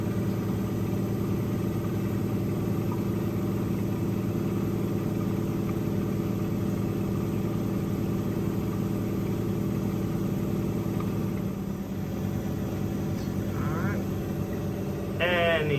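A Miele W487 washing machine on the Cottons 60°C Rapid cycle spins at high speed, giving a constant loud drone and hum. Brief rising whines come near the end. No one talks.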